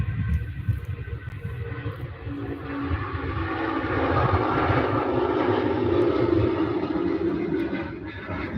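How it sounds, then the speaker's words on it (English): An Air Tanker jet departing Manchester Airport for Tenerife roars loudly and continuously, its broad engine rumble swelling in the middle as it passes nearby. "There is the air tanker"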